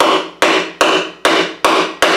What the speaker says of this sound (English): Let me get our hammer and just sort of knock it in.